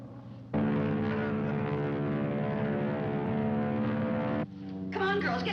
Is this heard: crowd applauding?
no